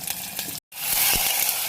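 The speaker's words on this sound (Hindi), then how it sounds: "चिकन को इतना फ्राई करना है कि उसकी स्मेल ख़त्म हो जाए और चिकन अपना कलर चेंज कर दे।" Chicken frying in a pan with garlic-ginger paste gives a loud, dense sizzle, broken by a split-second gap of silence before the crackling hiss resumes even stronger.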